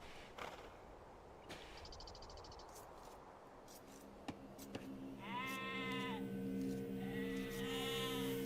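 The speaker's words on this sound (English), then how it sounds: "Oh, there's more sheep there." Sheep bleat in the real-time strategy game Age of Empires II, several wavering calls near the end over a quiet ambient bed with a few soft clicks and light speech.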